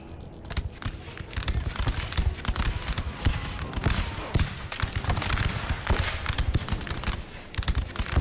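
Rapid, overlapping musket volleys crackle continuously during a battle over a house in Napoleon: Total War, dense and loud throughout with no quiet gaps.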